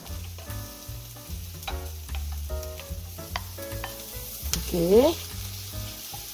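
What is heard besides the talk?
sweet potato and onion stir-frying in a pan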